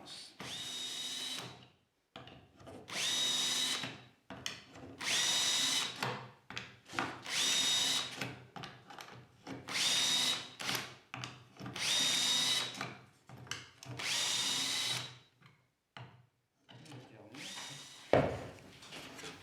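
A power drill bores a series of holes in wood for shelf brackets, about nine loud whirring bursts of a few seconds each, separated by short pauses, close up.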